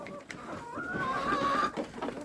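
Backyard chickens cluck softly and steadily while pecking at millet and sunflower seeds, with a brief louder squawk partway through, close by.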